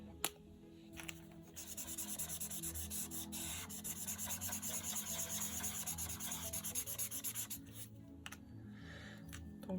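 Coloring materials are applied to paper with continuous rubbing, scratchy strokes, quiet and close, running in uneven bursts with short pauses.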